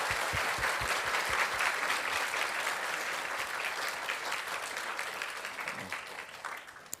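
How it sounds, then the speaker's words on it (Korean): A church audience at a 20th-anniversary service gives sustained, dense applause for the pastors, steady and close, tapering slightly near the end. "우리 참교추 목사님들께 큰 격려의 박수 부탁드립니다."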